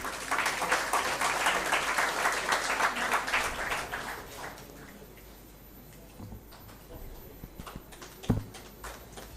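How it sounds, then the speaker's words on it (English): A seated audience at a formal felicitation ceremony gives a warm round of applause that fills the first half, then thins out into quiet room tone with a single sharp knock. "Can we have a round of applause for him?"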